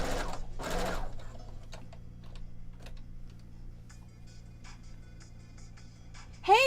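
A sewing machine stitches quilt rows in short separate bursts with quiet gaps between, while small ticks and clicks from handling sound faintly nearby.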